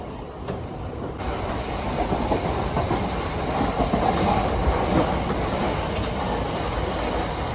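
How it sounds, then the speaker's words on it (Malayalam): A local train bound for Kalyan runs with a steady, loud rumble and rattling clatter heard from inside the carriage, continuous throughout with no talk. "നേരെ കയറിയത് കല്യാണിലേക്ക് പോകാനുള്ള ലോക്കൽ ട്രെയിനാണ്"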